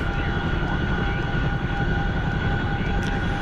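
Fixed-wing aircraft flying in a video game, a steady droning engine hum with a constant tone, loud and unbroken.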